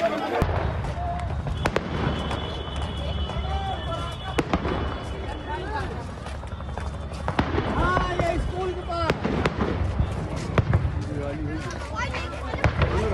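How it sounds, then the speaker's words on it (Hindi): Explosions at a burning firecracker factory, repeated sharp blasts and bangs going off irregularly amid a loud rumbling roar, with a reporter talking over the scene. "लगातार अभी भी वहां पर रह रहकर धमाके हो रहे हैं"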